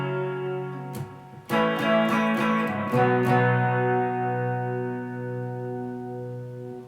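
Electric guitar strums the intro of a song, its chords ringing on an effects-laden tone with a few sharp picked strums before sustaining and fading, with no voices.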